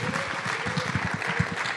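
An audience at a morning business networking event applauds steadily, a dense patter of many hands clapping at moderate distance for a couple of seconds.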